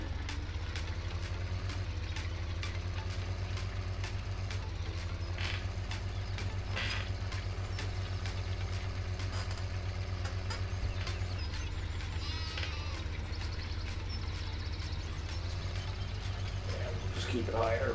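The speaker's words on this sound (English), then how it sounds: "We're playing with the new tractor." A tractor engine in the Farming Simulator game with the Seasons mod, droning steadily at high RPM as a constant low hum through the whole stretch, with faint clicks and mechanical noises on top.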